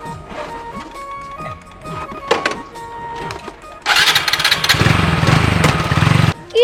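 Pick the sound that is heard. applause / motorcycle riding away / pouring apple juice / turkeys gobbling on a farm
motorcycle riding away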